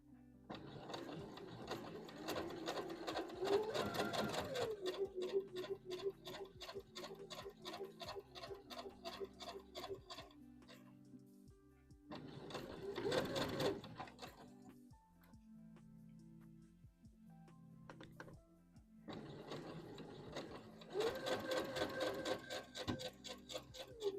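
A domestic sewing machine stitches the sleeve of a wrap dress in three separate runs of rapid, even ticking chatter, with quiet pauses as the fabric is moved, close and fairly soft, with no talking.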